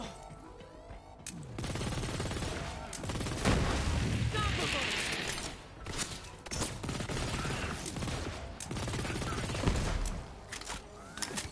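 Needle gun SMG firing in Borderlands 3: bursts of rapid gunfire with booms and crashes amid a busy battle, fairly loud and sustained, interrupted by brief pauses, with some talk underneath.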